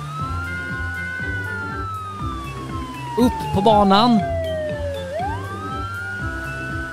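A toy police car siren wails, sweeping slowly up and down over a busy, rhythmic background of toy and music sounds, with a short burst of speech in the middle.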